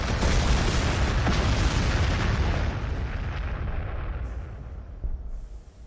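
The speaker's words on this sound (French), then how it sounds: "On va lui balancer des craques grenades." Krak grenades blast in the Warhammer 40K Gladius strategy game, a loud, dense explosive roar that slowly fades over several seconds, with a couple of fainter bursts near the end and no talking.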